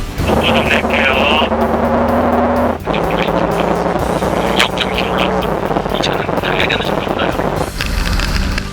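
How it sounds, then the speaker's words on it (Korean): A new Kia K5's engine hums steadily with constant road and tire noise from inside the cabin while driving in rain, with occasional thumps. "엔진음만 들리지 지금은 하체에서 올라오는 소리"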